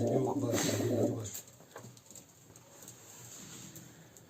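Pigeons coo softly and low, most strongly at the start, then fade into a quieter ambient background.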